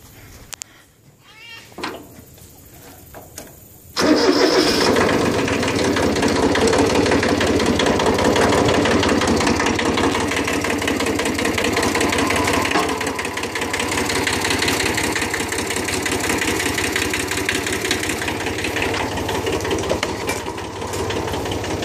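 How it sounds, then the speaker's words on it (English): A Kubota engine starts up and settles into a steady, loud idle, a continuous rumbling drone that holds for the rest of the clip after a few quieter sounds at the start. "So let me start up this Kubota."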